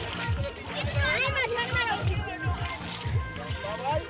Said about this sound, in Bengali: জল পার করতে হয়েছে